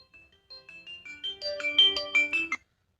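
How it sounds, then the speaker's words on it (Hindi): A short electronic phone ringtone plays alone, a bright rising melody of quick tones that builds and then stops abruptly. "रिंगटोन बजा के देख लेते हैं अपन।"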